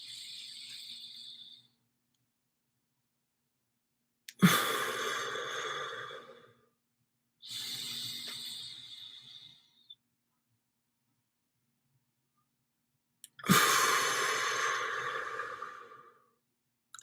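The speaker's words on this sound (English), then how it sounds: "that triangle breath, for example, would be 3 seconds in, 3 seconds hold, 3 seconds out" Slow paced breathing as part of a triangle breathing exercise, with long airy inhales and exhales heard alone and close, separated by quiet pauses for the held breath.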